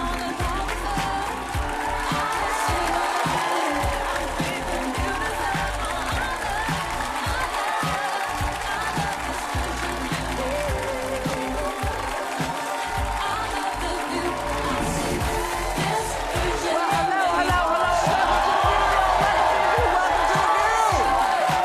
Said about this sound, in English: Lively crowd today.